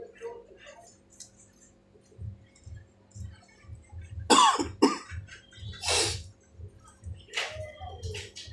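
Repeated coughing from a person, several harsh bursts spaced across a few seconds over a steady low ticking background hum.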